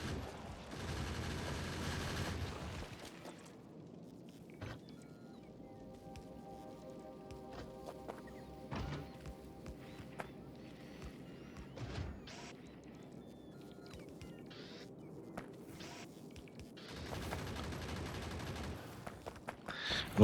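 Defensive turrets in Factorio firing in repeated bursts over a steady hum of factory machinery, with sharp clusters of shots near the start and end and scattered single cracks in between.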